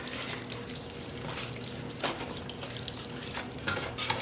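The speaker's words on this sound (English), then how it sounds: "let me wash my hands" Hands being washed under a running kitchen tap during pork roast preparation: a steady hiss of flowing water with small splashes and knocks, close and fairly quiet, with no talking.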